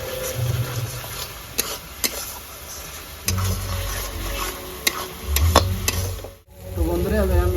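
Fish curry gravy with turmeric, cumin and coriander powder simmers and bubbles in a pan while a spoon scrapes and stirs it, giving a steady sizzle punctuated by several sharp clinks and scrapes.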